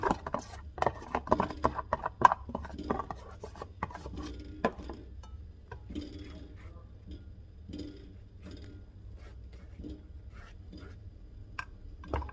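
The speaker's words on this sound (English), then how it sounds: "2 slices of bread. Spread the butter first." Butter spread across two slices of bread, a quiet dry scraping and rasping with soft knife taps, close and gentle, alone without talk.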